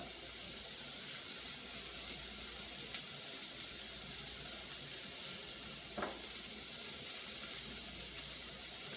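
Brussels sprouts left to brown in a hot pan, sizzling steadily and loudly with a constant hissing crackle throughout, a faint tap of a utensil briefly audible.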